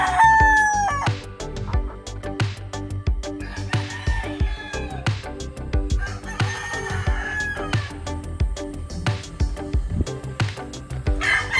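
A young Picom stag rooster with yellow legs crows loudly and close, with several drawn-out crows spread across the clip over a steady backdrop of farm noise and other fowl.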